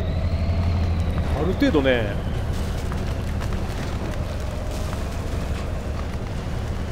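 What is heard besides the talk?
truck engine revving in video game picar3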